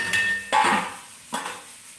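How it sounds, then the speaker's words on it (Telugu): A metal lid is set onto a pot of long bean curry, giving a couple of clanking knocks and scrapes in close succession, with a further clatter a moment later. "మనము ఖచ్చితంగా దీనికి మూత పెట్టాలి"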